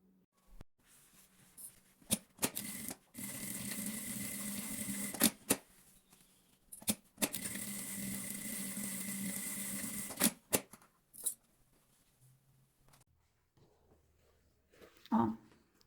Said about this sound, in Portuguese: Vou alfinetar e vou na máquina passar uma costurinha de segurança